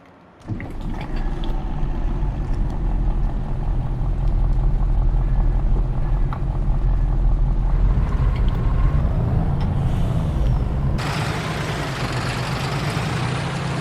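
Truck in the video game Farming Simulator 22: a steady, loud diesel engine rumble that holds throughout, with a sudden broadband air-brake hiss near the end.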